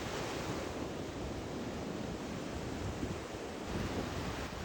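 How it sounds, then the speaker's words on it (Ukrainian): Steady rush of sea surf washing onto the shore, a dense, continuous roar with gentle swells and wind noise throughout, heard alone without voices. "І зараз хвиля торкається твоїх стоп, і разом із водою йде дрібна напруга"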